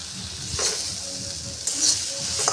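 Potatoes and vegetable peels sizzle steadily in a pan while being stirred, with a few brief louder scrapes and hisses breaking through the constant frying.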